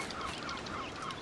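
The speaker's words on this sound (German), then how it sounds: "die Möwen kriegen wir nicht, schade" Seagulls cry in a seaside scene in Assassin's Creed IV Black Flag: four evenly spaced calls repeat over a steady bed of surf and wind ambience, with no talking.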